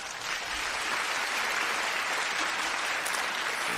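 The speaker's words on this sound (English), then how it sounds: "Give your boy a round of applause" A crowd gives a steady, continuous round of applause, dense clapping that holds at an even level for the whole stretch with no voices standing out.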